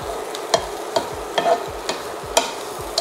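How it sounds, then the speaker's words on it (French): Butternut squash and courgettes being stirred in a pot, a string of spoon scrapes and soft clacks about every half second over a faint steady sizzle, close and alone. "je continue par mon petit mélange de butternut et de courgettes. Et puis, je remue de nouveau."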